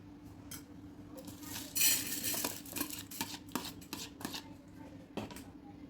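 Soaked millet tipped into a pressure cooker in a home kitchen, giving a few close clinks and a scraping, rattling patter of grains against metal with some short knocks, no voices.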